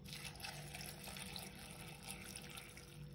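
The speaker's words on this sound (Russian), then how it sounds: "И заливаю чистой водой." Clean water runs and splashes steadily into a container of mushrooms, a quiet, continuous pour.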